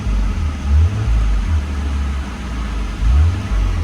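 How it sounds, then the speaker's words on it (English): A 2000 Nissan Skyline R34 GT with its check engine light on idles nearby in a steady, loud low rumble that swells in slow periodic pulses, with no talking. "I'm going to go ahead and do the car running video"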